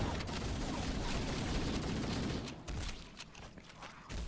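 Gunfire in the shooter game Halo: The Master Chief Collection, a dense rapid volley of shots that thins into scattered bursts and clicks toward the end.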